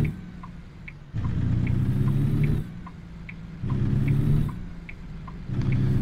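A powerful truck engine in American Truck Simulator rumbles loudly, swelling and easing in repeated surges as it accelerates and shifts, low and steady throughout.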